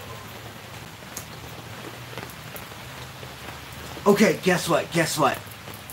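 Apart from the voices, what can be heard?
rain falling outside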